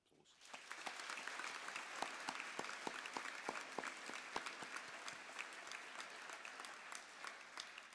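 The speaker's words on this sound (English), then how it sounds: "Please give your teachers, the office staff and the wellbeing team a nice hearty round of applause." Audience at a senior campus graduation ceremony gives a hearty round of applause for teachers, office staff and the wellbeing team, steady dense clapping with sharp individual claps standing out, sustained throughout at moderate level.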